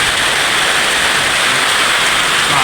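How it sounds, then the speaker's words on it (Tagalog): Heavy rain pours down steadily and loudly at close range, a dense unbroken roar with no voices over it. "Pasensya ingay mga idol yung ulan."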